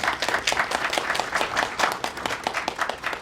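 An audience applauds after a presenter finishes a pitch at a startup demo day in Busan, giving a steady burst of clapping from a roomful of people, fairly close and without any voices over it.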